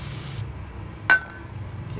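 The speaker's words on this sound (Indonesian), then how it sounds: "kita semprot sekali lagi" A spray bottle gives one quick, sharp spritz of liquid onto a DTF print to loosen leftover glue, a single close hiss after a quiet stretch.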